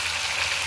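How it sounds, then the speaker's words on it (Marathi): Vegetables with turmeric and salt frying in a pan, a brief, steady, close hiss of sizzling oil with no talk. "आणि ह्याला चांगलं परतून घ्यायचं"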